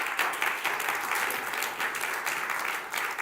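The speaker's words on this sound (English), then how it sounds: "And I'd like to just give a warm round of applause for Michael, who made that happen for me." Steady audience applause in a school conversation event, a warm round of clapping from a seated crowd that stays dense and even for the whole stretch, moderately near with no voices over it.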